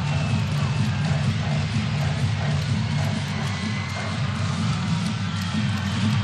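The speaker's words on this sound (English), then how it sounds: "This Viborg crowd celebrates." A stadium crowd in Viborg celebrates a goal at a women's World Cup qualifier between Denmark and Bosnia and Herzegovina, a steady broad roar of cheering that holds at full level throughout.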